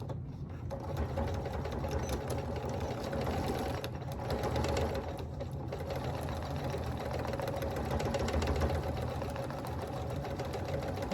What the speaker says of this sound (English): I'm going to take my bag here, and I'm going to sew in,